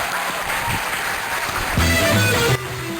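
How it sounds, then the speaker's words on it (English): Studio audience applause closing a campus comedy variety show, a dense sustained burst of clapping that holds steady for a few seconds, with some brief tonal sounds layered over its latter half. "everyone give a big round of applause for Batman and Chuck Steele"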